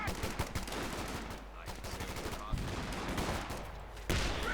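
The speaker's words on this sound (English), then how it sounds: "Sturmpioneers are quickly repulsed there by the riflemen and all the Browning automatics." Rapid bursts of Browning automatic rifle and rifle fire in a Company of Heroes 2 battle, dense overlapping gunfire crackling continuously with a sharper loud burst near the end.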